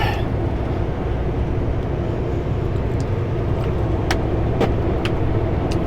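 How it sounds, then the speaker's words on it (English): A semi truck drives off-road across a field, its engine a loud, steady, close drone with a few faint knocks and rattles scattered through. "I cannot make the corner onto this yard. Hence why I'm driving through the field here."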